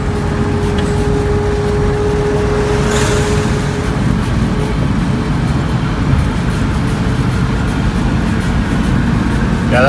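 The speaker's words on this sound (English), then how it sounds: "Yeah, that transmission sounds loud." A Volkswagen travels along an Indonesian highway with a loud transmission whine over a steady engine drone and road rumble. The noise is continuous and close, with traffic around.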